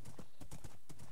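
Hooves from a horse in Minecraft clip-clop in a quick, even rhythm, about a dozen close, clear steps in a brief burst, with a faint hint of whinnying mixed in.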